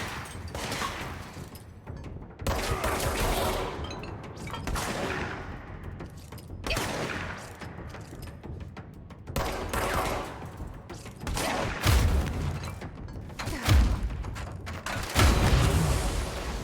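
Combat in the video game Control with grenade explosions and gunfire: a continuous barrage of booms, blasts and rapid shots rolling through the whole span, loud and dense with no clear pauses.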